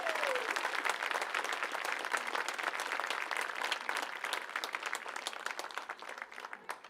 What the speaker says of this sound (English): One more round of applause for Mike and Sil.